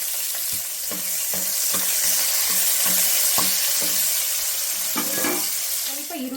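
Onions tossed into hot oil with bay leaf, cinnamon, cloves and kasuri methi for chana masala sizzle steadily, with a spoon stirring and scraping the pan in regular strokes throughout, close and fairly loud.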